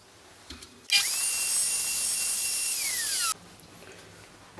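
A router in a WoodRat jig plunge-cuts a 5 mm shoulder for comb joints: a sharp spin-up into a loud, steady high-pitched whine lasting about two and a half seconds, then an abrupt stop with the pitch falling.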